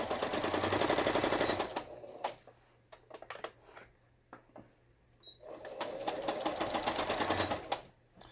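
A Brother household sewing machine, an older model, stitches in two steady rapid bursts with a stop-and-start pause of light clicks and taps between them, heard up close.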